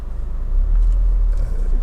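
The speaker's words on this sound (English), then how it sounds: "the engine, which starts instantly and settles to an absolutely smooth and even idle" A Honda Accord 2.0 i-VTEC engine idles smoothly and evenly, a steady low rumble held close throughout with no changes in pitch.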